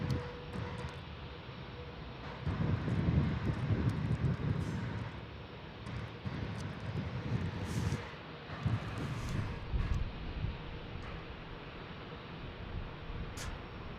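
A jet departing San Diego's single-runway airport, a distant low roar swelling and fading beneath wind noise on the microphone, heard alone without talk.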